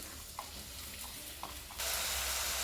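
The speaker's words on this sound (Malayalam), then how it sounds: "വെളിച്ചെണ്ണയിലേക്ക് നമ്മൾ അരിഞ്ഞു വെച്ചിട്ടുള്ള സവോള ഇടാം" Chopped onions tumble into hot coconut oil, a few soft clicks and taps followed by a sudden, steady sizzle that swells loud and stays constant.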